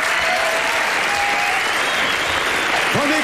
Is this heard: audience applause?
yes